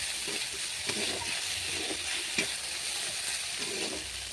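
Chopped tomatoes frying in a pan, a soft steady sizzle with a few light stirring scrapes and knocks, fairly quiet and close, with no voices.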